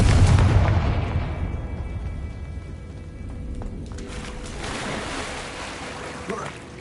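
The Confringo fire spell from Hogwarts Legacy goes off as a heavy booming blast at the start, then a long rumbling decay with a second surge of crackling debris noise partway through.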